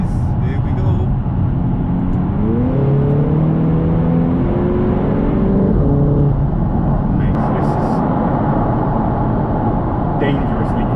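A remapped Audi TT 2.0 TFSI Quattro Mk3 pulls hard under acceleration, its engine note rising in steady revving sweeps with a loud, continuous intake and road roar; voices speak over it.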